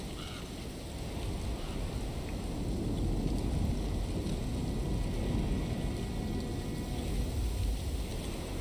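Steady heavy rainfall in the video game Alone in the Dark, a dense continuous hiss with low rumbling underneath, holding even and fairly close for the whole stretch with no voices.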